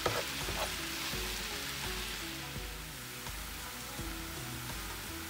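Washed, disinfected mushrooms fry in a pan with a steady, close crackling sizzle and scattered pops, with no voices.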